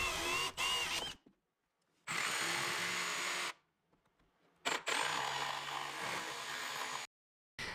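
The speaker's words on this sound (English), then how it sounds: "I used a jigsaw and a Forstner bit to cut out the hole" A jigsaw and a Forstner bit cut a hole through wood on a mobile woodworking workbench, heard as three sustained, loud bursts of motor whine and cutting noise separated by short silences.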